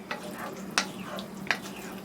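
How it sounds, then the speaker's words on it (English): Homemade sloppy joe sauce bubbles in a pan with a low, soft sizzle, broken by two or three sharp pops or stirring clicks. Nobody speaks. "Let it cook down and simmer and all the flavors marinate together."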